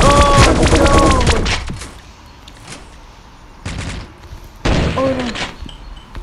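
Bursts of gunfire in a Pixel Gun 3D battle royale match: a dense, loud volley at the start, then a quieter gap, then two shorter sharp bursts near the end.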